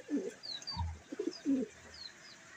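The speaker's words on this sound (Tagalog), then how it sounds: "Yan na nga lang mga ibon natin dito." Racing pigeons kept in a home loft coo in low, soft, throaty bursts, several calls spaced irregularly, with faint higher chirps and a light flutter of wings in the background.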